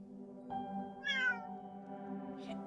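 A cat in the video game Christmas Tina meows twice, a short call followed by a longer, rising tonal meow, clear against soft in-game background music.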